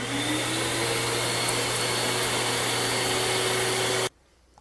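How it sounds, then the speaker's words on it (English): A shop vacuum cleaner on a workbench cleans out electric guitar potentiometers with a loud, steady whining roar and a constant hum, then cuts off abruptly into quiet near the end. "I've got a little clip under the bench to hold the main part of the hose, so I'm free to vacuum out these pots."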